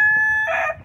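Chickens with hens and chicks in a coop give a single close, loud tonal squawk or crow-like call lasting under a second.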